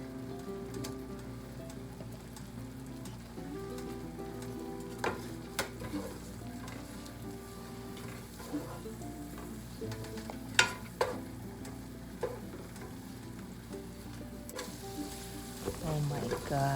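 Butter melted with rosemary frying in a pan for rice, a steady crackling sizzle full of small pops and a few sharper spits, heard close with no speech.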